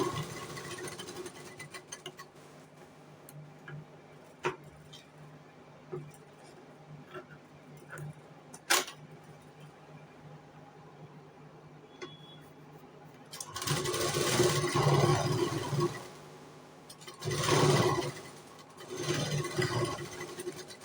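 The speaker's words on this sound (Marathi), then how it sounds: "फक्त आता हे अस्तर आणि कपड्याची शिलाई जी ओपन झाली ती एकदा आपण त्याला शिलाई मारून घेऊया" Sewing machine stitches the lining and fabric of a katori blouse closed in two loud bursts, one about four seconds long and a shorter one after it, following a quiet stretch of faint ticks and handling.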